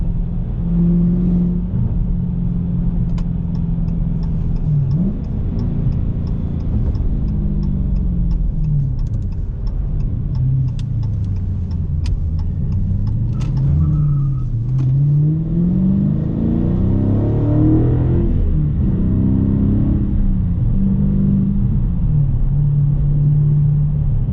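A 2016 Dodge Challenger R/T Scat Pack engine revs hard under acceleration while driving: a loud, continuous rumbling drone that climbs and drops in pitch through repeated gear shifts, with no talking.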